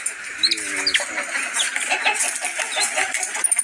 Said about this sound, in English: Bird, a bird, this is a bird that will chat to me.